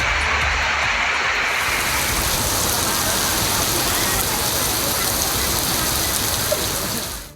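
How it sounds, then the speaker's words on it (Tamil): Heavy rain pours down in a dense, steady hiss during a thunderstorm in Tamil Nadu, loud and constant, with no distinct thunder claps standing out, fading at the very end. "மின்னலுடன் கனமழை வெளுத்து வாங்கியது."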